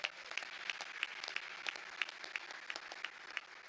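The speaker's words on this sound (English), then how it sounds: "How about a round of applause for" Audience applause at the Doral resort venue during a Congressional Institute event with the president, a steady patter of many hands clapping with distinct sharp claps on top, moderately distant and fairly quiet, no voices over it.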